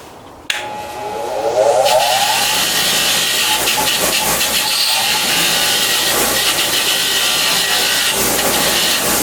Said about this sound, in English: So you can clean anything on a grinder like this